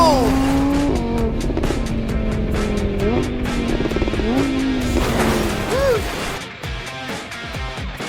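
A car driving in a Roblox game set in London, a continuous revving engine with rising and falling pitch and some tire squeal, loud and close, with a voice talking over it.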